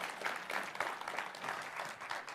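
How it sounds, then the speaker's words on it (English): A church congregation claps for a man at the start of a service. The applause is quiet and distant, a soft, rippling patter that rises and falls gently across the short stretch. "let's give him a round of applause"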